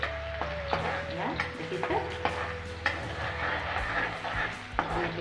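Onions fry in a pan for an oyster mushroom dish, giving a steady soft sizzle with a utensil stirring and tapping now and then, and a voice speaking briefly over it.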